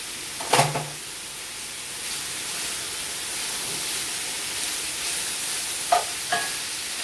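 Chopped peppers in big chunks tossed into a hot pot with onion, giving a steady soft sizzle and hiss throughout, with a couple of brief clanks of a spoon or pot near the start and end.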